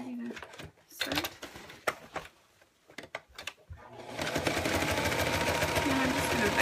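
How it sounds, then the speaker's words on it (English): A sewing machine back stitches around a zipper, starting with short, stop-start bursts amid handling clicks and then settling into a loud, steady run, with a voice talking during the first bursts. "And I'm just going to back stitch."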